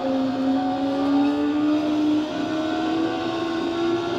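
Kawasaki Ninja ZX-4RR sport motorcycle on its standard exhaust, engine whining steadily higher under hard acceleration in fourth gear, a sustained close rising drone with no talk over it.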